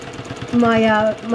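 Sewing machine free-motion quilting a raw-edge fabric collage, rapid needle ticking that rises into a brief stitching burst, while a person speaks over it.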